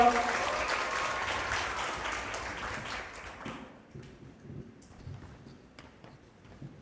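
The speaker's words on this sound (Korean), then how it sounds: "박수 한번 부탁드릴게요" Applause from a crowd rings out loudly at first, then thins into scattered claps and fades over several seconds.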